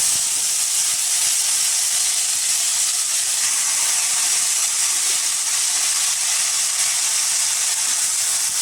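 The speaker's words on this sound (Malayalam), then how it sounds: "അപ്പോൾ ചിക്കൻ ഇടുകയാണ്" Chicken pieces dropped into a hot pan for a chicken roast sizzle loudly and steadily, a dense continuous hiss of frying that holds without pause and with no voices over it.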